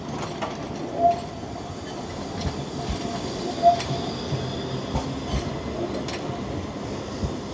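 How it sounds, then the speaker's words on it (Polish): A Warsaw tram pulling away from its stop, a steady rolling rumble with faint rail clatter and a couple of brief wheel squeals, heard close by and fairly loud throughout. "Słuchajcie, tramwaj mi zwiewa."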